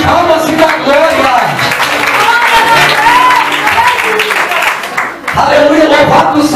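A church congregation claps hands together, a dense, steady wash of applause that carries on for several seconds, briefly dips, then swells again.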